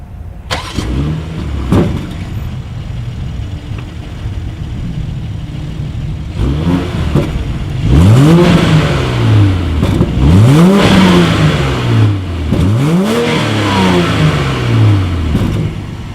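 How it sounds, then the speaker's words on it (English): A 2019 BMW X7 SUV engine idles with a deep exhaust rumble, then revs up several times in rising and falling surges, loud and close. "As always, here is that exhaust clip."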